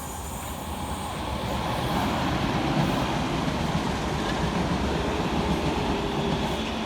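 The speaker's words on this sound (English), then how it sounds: "going in the opposite direction for Southeastern is 465-916, working 2K34 from London Victoria through to Gillingham" A Southeastern class 465 electric train passes through Shortlands station, a steady rumbling roar of wheels on rails with faint rhythmic clatter, building in the first seconds and then holding loud and close.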